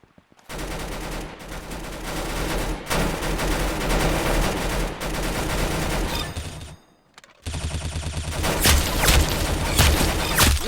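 Rapid automatic gunfire in a first-person shooter video game, loud dense bursts of shots with brief pauses and a short silent break before heavier firing resumes.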